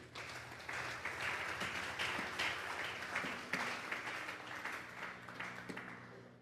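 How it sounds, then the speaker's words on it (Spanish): A church congregation at a Thursday Bible doctrine service gives a sustained round of applause, steady dense clapping filling the room for several seconds at moderate loudness. "Vamos a darle un fuerte aplauso pues al Señor"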